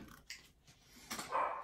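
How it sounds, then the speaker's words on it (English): A dog barks in short bursts somewhere indoors, a few quick, fairly faint yaps and growly sounds spread across less than two seconds, with no talking over it. "Sorry about the barking."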